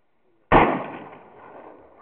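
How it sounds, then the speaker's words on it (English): A woman fires a single shotgun blast, a sharp loud crack that rings out and fades slowly into an open echoing tail. "My girlfriend's shooting a shotgun."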